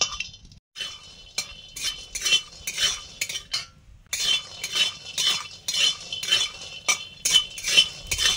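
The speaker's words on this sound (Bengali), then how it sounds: "উনুন জ্বালালাম, একটু বড়ি ভাজছি, ভাতের সঙ্গে" Bori lentil dumplings turned in a dry pan over a stove, with repeated metal spoon scrapes and clinks against the pan coming in close, uneven bursts.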